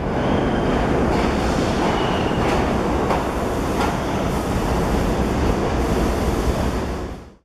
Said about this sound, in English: waiting for the G train at Nassau Avenue subway stop